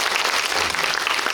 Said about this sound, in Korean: 우민호 감독님께 박수 한번 여러분